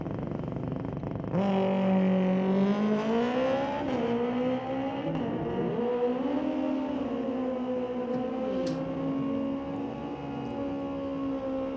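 Bracket drag race cars at an NHRA Division 6 ET Finals team race at Mission Raceway Park, engines droning loud and steady with rising pitch as the cars accelerate down the strip.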